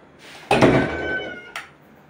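A cat gives one drawn-out indoor meow, clear and close, then a short second call about a second later.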